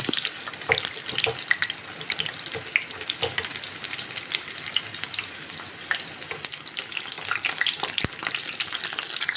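Shola kochu (taro) pieces fry in a pan of oil with a continuous bubbling sizzle and frequent sharp spits and pops, close and moderately loud, without any talk.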